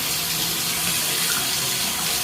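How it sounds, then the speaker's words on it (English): Hot water runs steadily from a tap into a sink, a continuous close, even hiss of flowing water with no voices. "The hot water's only on, so it should get hot pretty quickly."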